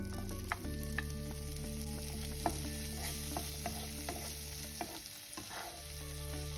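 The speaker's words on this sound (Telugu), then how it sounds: "జుకీనీని యాడ్ చేసుకుంటున్నాను. దీన్ని కూడా ఒక 2 minutes ఫ్రై చేసుకొని" Zucchini frying in a pan for shrimp lemon pasta, with a steady sizzle under frequent spoon scrapes and light knocks at an uneven pace, close and clear, with a low hum beneath and no speech.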